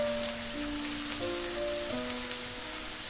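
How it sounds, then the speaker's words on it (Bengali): Chicken and mixed chowmein ingredients frying in a pan over a high flame, a steady close sizzle and crackle with faint tonal hums running through it. "আরও 1 মিনিট হাই ফ্লেমে আমি সব কিছুকে ভেজে নিয়েছি।"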